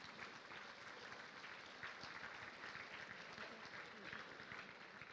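Applause for newly presented graduates at a University of London ceremony, a faint, distant, even wash of clapping from a large audience that holds steady throughout.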